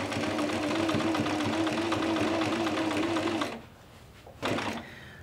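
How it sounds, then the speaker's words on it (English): A sewing machine runs a decorative stitch on a dress yoke in pink thread, a loud steady close mechanical whir for about three and a half seconds, then it stops and leaves a short knock. "now I'm ready to sew. So I'm going to sew from the centre and work my way out."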